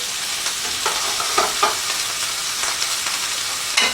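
Beef burgers sizzle steadily in a Viking frying pan on a Viking stove, a loud continuous hiss broken by a few scraping and stirring knocks, with no voices.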